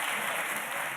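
Schoolchildren in the public gallery of the National Assembly clap together, a dense, steady wash of applause filling the whole second with no voices above it.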